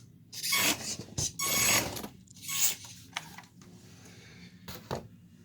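A tiny 1:32-scale Corvette model car with a coreless electric motor, driven on a smooth indoor floor with only a touch of throttle, gives off short whirring, rasping bursts that rise and fade several times, close up and without talk.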